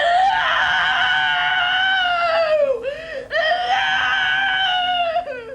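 A person screams at length in a primal therapy group session, a loud sustained wailing cry that breaks briefly and then resumes just as intensely.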